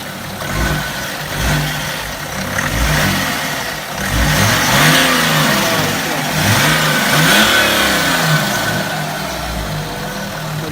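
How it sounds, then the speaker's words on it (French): Close, loud BMW 3-litre turbo diesel car engine revving repeatedly, rising and falling in several pulls over a rough idle at a drag race event, with no talking. "Donc le fameux 3 litres diesel de chez BMW"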